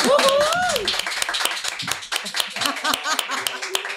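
A few people clap for a guest on a sports podcast, quick close bursts of hand claps mixed with talking and some laughter.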